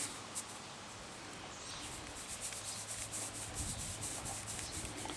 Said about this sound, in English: I can run that back through the flour sifter and I can pull the fine stuff out of it.